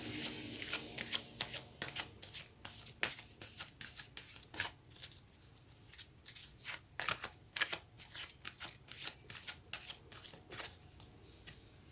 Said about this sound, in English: now we're going to take a card from the Psychic Tarot Oracle.